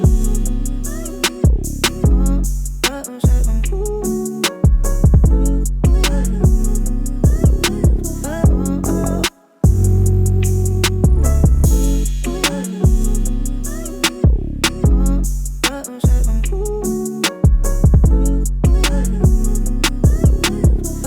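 Full trapsoul beat loop in the style of Bryson Tiller, built in FL Studio: deep 808 bass, crisp hi-hats and snares over moody chords, looping steadily and loud with a brief dropout near the middle, no talk.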